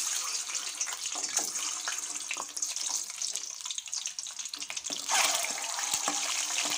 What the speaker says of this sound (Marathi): आता आपण आपले अंडे छान फ्राय करून घेऊया।